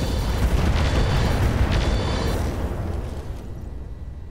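Mech weapons in the Roguetech game firing and exploding: a loud rumbling boom with layered blasts that rolls on for a few seconds, then fades into a lower decaying rumble.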